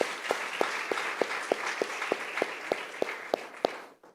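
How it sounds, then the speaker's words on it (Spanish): Congregation applauding to welcome a newcomer named Gustavo at a church service, with steady clapping and sharp individual claps standing out in a roughly regular rhythm before it cuts off abruptly. "Un fuerte aplauso."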